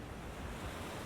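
Ocean waves washing onto a sandy shore, a steady broad rushing roar with wind, continuous and fairly loud, no voices.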